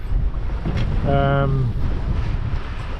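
A sailboat on a near dead run under mainsail alone, with steady wind rush and sea noise filling the clip and a brief voice partway through.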